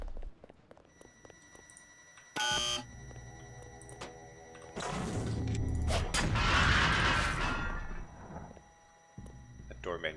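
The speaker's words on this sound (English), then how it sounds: "That door made an explosion sound when I opened it." A door opening in the game Deus Ex (GMDX mod) sets off a loud, booming explosion-like burst that swells and rumbles for several seconds, following a short sharp thud, with quiet ambient game sounds before and after.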